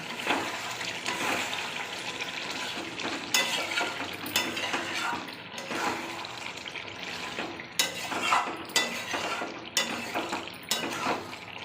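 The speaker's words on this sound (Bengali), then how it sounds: "ঢাকাটা খুলে দেখি কত দূর হয়েছে" Chicken curry cooks in a pot as the lid is lifted off, bringing a bout of sizzling and frying with scattered clinks and scrapes of utensils against the pan, moderately close.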